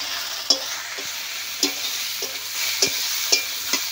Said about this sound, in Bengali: দিয়ে আবার একটু বেশ ভালো করে নেড়ে চেড়ে ভেজে নেব